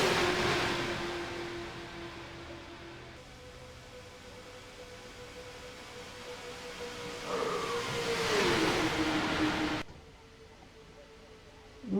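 Race cars in a Talladega stock-car racing video game drone past the start-finish line, their engine tones rising and falling as they pass, with wind-like rushing noise and abrupt cuts between passes.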